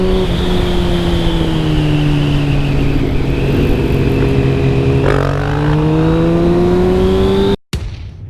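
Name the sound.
motorcycle engine revving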